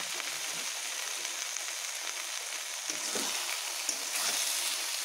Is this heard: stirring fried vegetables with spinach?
yes